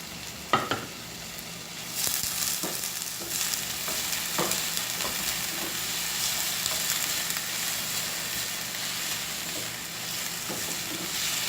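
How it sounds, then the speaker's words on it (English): Seasoning pepper and celery fry in a hot pan with a steady, close sizzle that starts abruptly and holds, broken by occasional clicks and scrapes of stirring. "Now I'm going to add the seasoning pepper and the celery."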